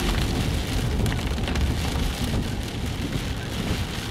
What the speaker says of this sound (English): it's really windy and rainy